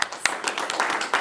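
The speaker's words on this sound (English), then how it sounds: "Let's give him one more big round of applause." Audience applause at an agricultural hall of fame induction ceremony, a short burst of scattered claps with distinct individual hand strikes, fairly faint and heard alone.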